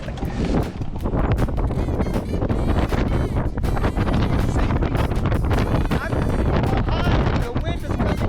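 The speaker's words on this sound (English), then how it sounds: "the wind is coming this way" Strong high-desert wind roars continuously and loudly, buffeting the microphone with heavy rumbling gusts throughout.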